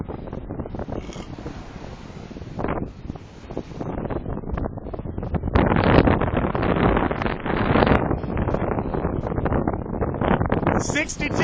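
Gale-force 60 mph wind gusts on a stormy sea, continuous rough roaring and buffeting against the microphone that builds louder in the second half, surging in uneven bursts.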